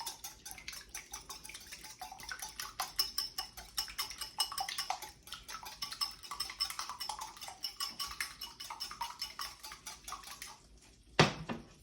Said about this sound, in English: Go ahead and whisk them up.